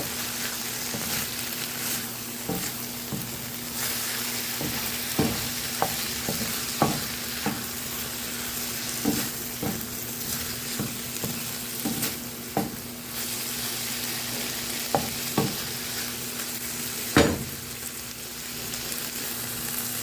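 Pork stir-fried in a pan with blended green seasoning for string bean fried rice: a constant close sizzle broken by repeated scraping knocks of a spoon against the pan at an irregular pace, with no talking.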